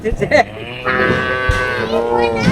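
Cattle newly brought by truck moo loudly and close, one long drawn-out call following a few brief sounds at the start.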